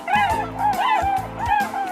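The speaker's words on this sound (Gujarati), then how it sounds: "હું હંસ છું." A swan calls with loud, close, nasal honks, about four in a regular rhythm over two seconds.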